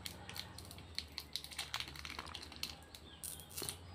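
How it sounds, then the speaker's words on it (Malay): A yellow plastic wrapper from a Nano Nano orange-flavoured candy crinkles close by in a quick series of sharp, irregular crackles and rustles with no voices. "dengarkan dia punya bunyi plastik dia"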